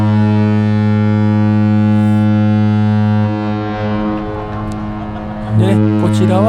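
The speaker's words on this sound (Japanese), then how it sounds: "船もねそれに応えるように汽笛を鳴らしておりますね。" A ship's deep steam whistle blows loud and sustained for several seconds at Kobe port, then fades as harbor noise and a few distant voices come through.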